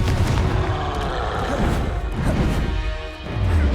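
A Confringo spell blast in Hogwarts Legacy, a heavy explosive crash and boom that rumbles loudly amid ongoing combat noise, with another impact swelling near the end.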